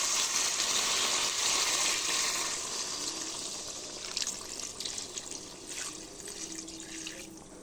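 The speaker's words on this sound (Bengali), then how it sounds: "এবারে দিয়ে দেবো পরিমাণ মতো পানি" Water is poured into a cooking pot of chicken and potatoes, a steady broad splashing rush that is loudest at first and then eases to a softer, uneven trickle with small bubbling.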